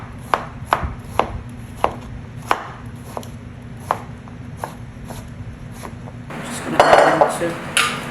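Jicama being shredded by hand with a knife on a cutting board: steady, rhythmic chopping taps, roughly one every half second, close and clear, ending in a brief clatter of utensils.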